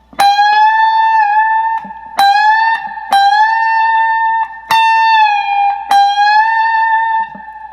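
A loud, close electric guitar phrase from a solo: five picked notes in sequence, each held with bends and releases that make the pitch rise and dip, with brief gaps between.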